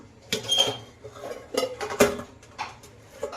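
A plate is set over a pan and the two are flipped together, giving a handful of sharp metallic clanks and knocks at uneven intervals.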